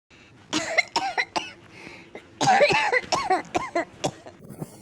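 Repeated coughing fits, several harsh bursts in two clusters with short pauses between, close and fairly loud.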